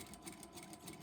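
A sewing machine stitches the corner of a quilt block along a diagonal seam, running steadily at close range with a pulsing whir and no voices.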